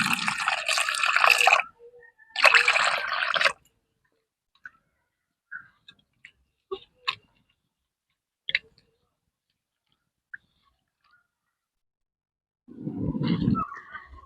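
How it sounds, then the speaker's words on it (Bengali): Water poured into mashed tamarind for a fish-ball sour curry, heard as two splashy bursts close by, followed by sparse small kitchen clicks and a low rumbling pour near the end. "এবার জল দিয়ে দেব।"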